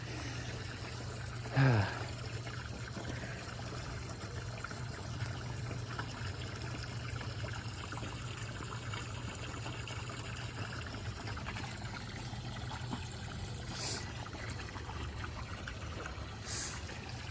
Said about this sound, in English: Water sounds calm me down.